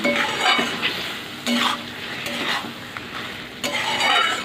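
Chicken meat is stir-fried with spices in a pan, steady sizzling broken by repeated scraping and clinking strokes of a utensil against the pot, close and loud.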